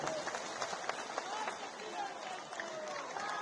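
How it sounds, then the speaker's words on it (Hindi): Audience at a felicitation ceremony for Chirag Paswan breaking into applause, a steady mass of clapping with scattered cheers, heard moderately far off and fairly faint. "एक बार जोरदार ताली"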